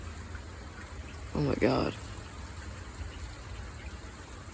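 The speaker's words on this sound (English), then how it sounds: "The hail and rain are both cooling things down significantly." Penny-sized hail and rain fall steadily in Portland, Oregon, a continuous soft hiss of pelting ice and water, briefly interrupted by a short spoken exclamation.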